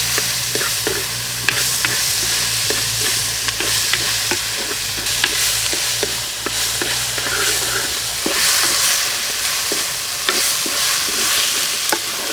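Sliced onions and green chillies frying in a pan, stirred steadily for several seconds: a loud, continuous sizzle broken by repeated scraping strokes of a spoon against the metal, close and with no talk.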